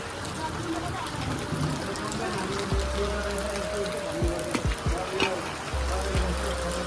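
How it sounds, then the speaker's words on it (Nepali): Rain falls steadily at an agricultural engineering research centre in Kumaltar, Lalitpur, a continuous hiss with scattered drips, while a person talks over it. "अहिले चाहिँ यहाँ पानी परिरहेको छ"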